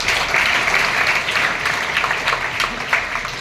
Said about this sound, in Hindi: आप सब उनका तालियां बजा के अभिवादन